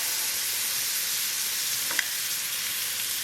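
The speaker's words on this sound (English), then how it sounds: "into our warmed up panini maker, we're going to place that buttered side down" Buttered sandwich bread laid butter-side down on a warmed panini maker, giving a steady, even sizzle throughout with one faint tick midway; no talking.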